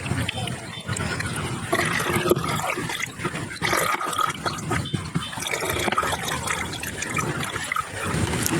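Chili extract squeezed and strained by hand, liquid trickling and splashing steadily throughout, close and fairly loud with wet squelching noise.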